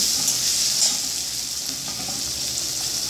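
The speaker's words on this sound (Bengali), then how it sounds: "নাড়া হচ্ছে" Fish and potato curry with onions sizzles in a pan as it is stirred, a close, constant hiss of frying with faint scraping, heard alone.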